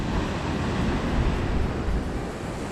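Ocean surf washing onto a shore in Kona, Hawaii, a steady broadband roar of breaking waves with no talk, heard close and fairly loud throughout.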